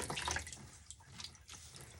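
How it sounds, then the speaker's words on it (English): Water squeezed by hand from a wet synthetic wig, a Raquel Welch piece in Shaded Biscuit, gives short, close splashy trickles and drips that fade within a couple of seconds. "Squeeze and squeeze the water out."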